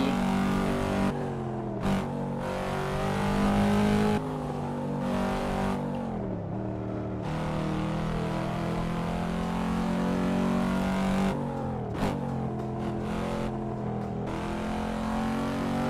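Car engine revving in the PC racing game Assetto Corsa, a loud harmonic engine note that climbs and drops repeatedly with abrupt cuts between gear shifts, alone without speech.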